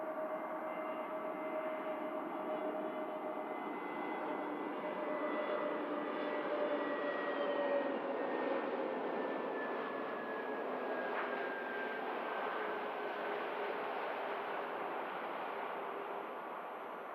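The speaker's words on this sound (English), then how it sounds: "EasyJet Neo now on finals from Alicante" An EasyJet A320neo airliner on final approach at Manchester Airport gives a steady, moderately distant engine roar with a whining tone that slowly shifts pitch and holds for the whole stretch, with no talk over it.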